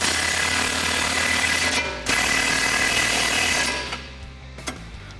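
A power tool drives a nut onto a bolt while installing a coilover kit on a 2015-2019 Mustang, a loud continuous rattling hammer that cuts out briefly, resumes, then winds down with a couple of sharp clicks.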